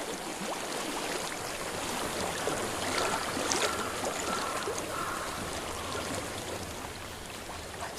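A stream runs through a shadowy fantasy game landscape, steady broadband rushing and trickling water flowing without pause, moderately close and even in level, no voices over it.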